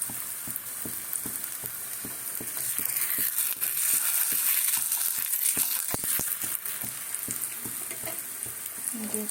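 Spinach paratha frying in a hot pan on a tawa, a steady bright sizzle throughout with repeated clicks and scrapes of stirring or turning, close and fairly loud, no talk.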